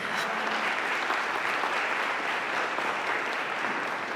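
An audience at an anniversary celebration applauds steadily, a dense even patter of many hands clapping at moderate distance throughout.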